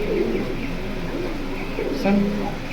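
Pet pigeons coo softly in short low murmurs beneath a person talking close by, with a brief louder coo near the end.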